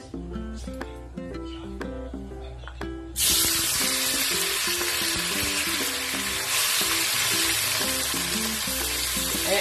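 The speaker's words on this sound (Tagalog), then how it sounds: "pinainit ko na yung mantika. Unahin muna natin iprito yung ating" Tofu cubes hit hot oil and burst into loud, close frying, the steady sizzle jumping in level after a few seconds and holding continuously, with faint clatter and light music underneath.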